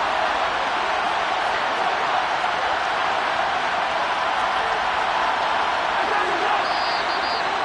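Steady, dense roar of a stadium crowd at an NFL football game near the goal line, a loud continuous wash of voices with no breaks, with no distinct cheers or claps standing out.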